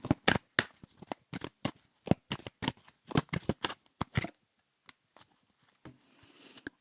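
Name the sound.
shuffling and drawing tarot cards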